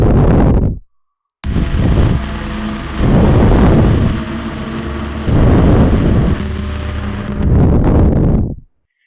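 A heavily distorted, noisy synth bell sample swells and fades in several loud bursts, harsh and gritty, with a short silence near the start.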